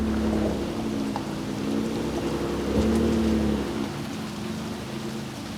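Rain falling at an onshore, rainy beach, a steady hiss with a low rumbling hum underneath and a few faint tones, continuous and moderately loud.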